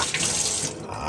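A kitchen tap runs steadily as hands are washed under the stream before cooking, a close, continuous splashing hiss lasting about a second with no talking.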